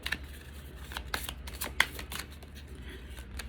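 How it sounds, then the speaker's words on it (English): A deck of cards riffles and shuffles close up in quick repeated bursts, soft papery flutters with no talking. "Just shuffle these out."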